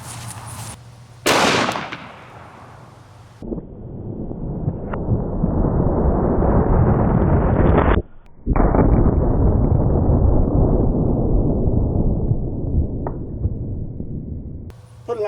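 A 10mm Underwood Xtreme Hunter pistol fires outdoors at a head of cabbage, a couple of sharp, loud cracks early on, then sustained gusty wind noise buffeting the microphone with a brief lull midway.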